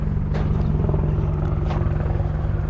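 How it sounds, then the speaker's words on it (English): A helicopter flying overhead gives a constant low rotor and engine drone with a steady chop, fairly close and loud, with no voices over it. "Oh, here comes that helicopter again."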